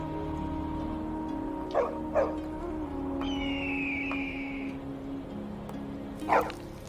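Dogs yip and whimper in a few short, sharp bursts over a steady low hum, with a longer whine drawn out in the middle; fairly close and moderately loud.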